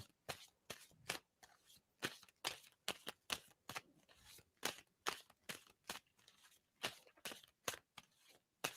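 Tarot cards are shuffled close by in quick, irregular bursts of riffling and slapping, repeating steadily with short pauses in between.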